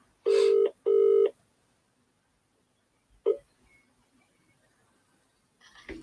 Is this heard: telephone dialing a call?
yes